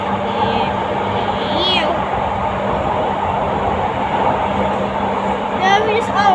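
An LRT light rail train in Indonesia rolls into a station with a steady loud rumble and a brief rising whine, while people talk throughout.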